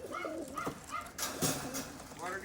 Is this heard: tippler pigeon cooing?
yes